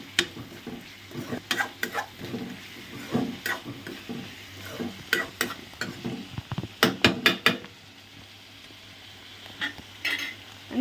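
Onions frying in a pan are stirred up close, with irregular bursts of spoon scrapes and clatter over a soft, steady sizzle, then a brief quieter lull.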